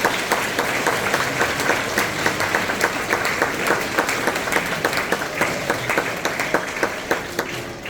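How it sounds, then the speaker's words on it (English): Parents and families at a fifth grade graduation ceremony at Manor Woods Elementary School are applauded by the audience, a steady, dense spread of clapping that holds at even loudness throughout, with scattered sharper claps standing out. "Students, let's give your parents and families a round of applause"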